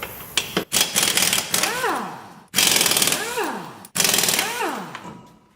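An impact wrench removes the lug nuts from a car wheel during ball joint replacement, three loud rattling bursts, each ending in a falling whine as the tool spins down, with short gaps between them.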